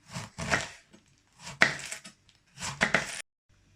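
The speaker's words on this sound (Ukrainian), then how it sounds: "І так, капусту я пошинкував" A knife shredding cabbage into thin strips on a cutting board, in three short bursts of rapid, crisp chopping separated by pauses, close and alone.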